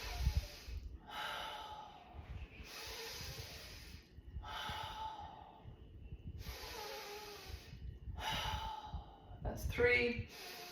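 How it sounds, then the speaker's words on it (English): Slow, deep nose-mouth breaths during a guided fascia breathing class, several long audible inhales and exhales in a steady rhythm, close and soft, with a brief spoken cue near the end. "Now we're going to do 6 nose-mouth breaths."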